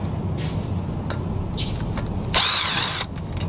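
A power tool briefly whirs as it backs out a Phillips rotor retaining screw on a 2010-2014 Hyundai Sonata front brake, one loud burst of under a second over a low steady background hum.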